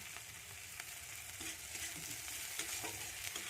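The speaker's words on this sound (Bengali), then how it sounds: "এটা একটু হালকা করে ভেজে নিচ্ছি আদার গন্ধটা চলে যায়" Chili and ginger frying lightly in a pan, heard as a soft, quiet, steady crackle with a few faint stirring scrapes, no voices.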